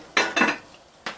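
A spoon scrapes and clinks against a pot of rhubarb punch as it is stirred, two quick strokes and then a third after a short pause, close and fairly loud in a quiet room.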